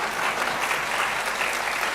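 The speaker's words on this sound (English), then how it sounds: "Aren't you clapping for that suggestion?" Conference audience applauding at a human rights moot court competition session, a steady dense wash of clapping from many hands that runs unbroken and fairly loud throughout.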